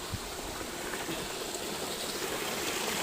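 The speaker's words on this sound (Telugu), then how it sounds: "ఇక్కడ నుంచి ఒక వాటర్ ఫాల్స్ వెళ్తుంది కిందకి" Steady, broad rushing of a hidden waterfall at Rayala Cheruvu near Tirupati, water pouring down continuously and filling the whole scene, close and even, with no voices.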